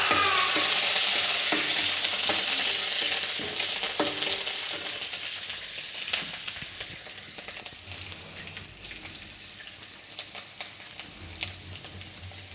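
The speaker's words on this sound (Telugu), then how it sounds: "ఎండుమిరపకాయలు వేస్తున్నాను. ఇగో మిరియాలు, కొత్తిమీర వేస్తున్నాను." Dried red chillies, black pepper and coriander sizzle in hot oil in a home kitchen, a bright crackling hiss that slowly settles, with scattered clinks and scrapes of a spoon against the pan.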